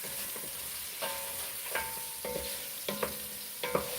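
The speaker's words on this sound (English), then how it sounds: "Let's get some ground garlic in there. Oh, yeah. Stir that in." Ground garlic is stirred in a frying pan over a soft, continuous sizzle, with a few light scraping strokes and taps of the utensil against the pan.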